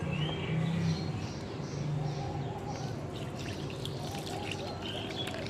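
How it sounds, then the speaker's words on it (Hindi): Water strained and poured out for watering plants in a home kitchen, a steady continuous pouring splash close by, with a faint bird chirp in the background and no talking. "हम पानी को छान लेंगे और छानने के बाद हम इस पानी को अपने पौधों में यूज करेंगे"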